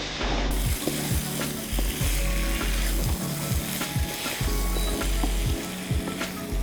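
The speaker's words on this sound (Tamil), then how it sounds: "இது எல்லாம் பச்சை வாசம் போகிற வரைக்கும் ஒரு 2 நிமிஷம் சாட்டே பண்ணுவோம்" Grated ginger and vegetables for paneer jalfrezi are sautéed in a hot pan, giving a steady, loud sizzle throughout with repeated rhythmic scrapes and knocks of a spatula stirring close by.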